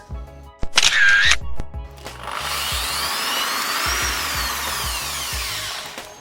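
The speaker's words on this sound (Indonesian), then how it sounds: "Lubangi tutup botol dengan menggunakan paku panas atau juga bisa menggunakan bor." An electric drill with a size 3 bit bores a hole through a bottle cap. It whirs loudly and steadily for about four seconds after a brief sharper tone and a few clicks.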